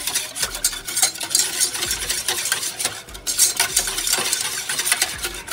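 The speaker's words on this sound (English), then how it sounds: "give it a whisk." A whisk beats a garlic-laced sauce for a Chinese shrimp stir-fry in a bowl, giving a steady run of quick metallic scrapes and clinks, close and continuous, with no talking.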